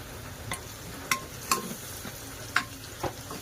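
Asafoetida, turmeric, coriander-cumin powder and red chili powder are stir-fried for dal khichdi, a faint low sizzle broken by a handful of soft spoon clicks against the pan.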